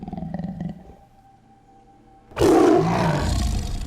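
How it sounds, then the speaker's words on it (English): A tiger in a movie scene bursts out and attacks, a sudden loud, close roar that erupts after a near-silent pause and holds for over a second with snarling growl. "At the moment, the tiger pops out and attacks him."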